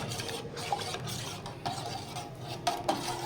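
A spoon stirs thickening chicken corn soup in a pot, with soft, quiet scraping and a few light metallic clinks against the pot's side at irregular intervals.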